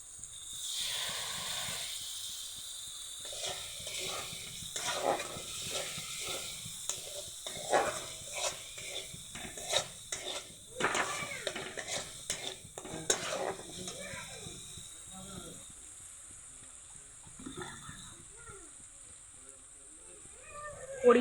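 Grated poppy seed paste hisses and sizzles in a hot pan while a utensil scrapes and clinks against the metal in irregular bursts. The sizzle eases toward a quieter simmer, and a faint voice is heard briefly.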